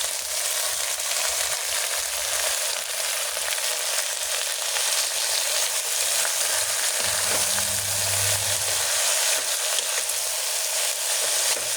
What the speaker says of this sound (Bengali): এখানে রসুন, পেঁয়াজ, মরিচ ভেজে নিচ্ছি। এখন দিয়ে দেবো শাক।